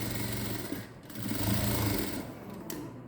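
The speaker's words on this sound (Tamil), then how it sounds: "லைனிங் கிளாத்தை கீழே வச்சு நம்ம கழுத்து பீஸு தைச்சிட்டு வந்தாச்சு" A sewing machine stitches a blouse neck piece with lining cloth underneath, giving a close, steady mechanical whirr broken by brief pauses.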